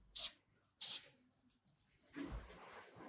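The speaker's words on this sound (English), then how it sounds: "For the top coat, I'm using a black semi-gloss enamel." Two short, sharp hisses of a spray can applying black semi-gloss enamel top coat to a dirt bike part, followed by a softer, longer hiss.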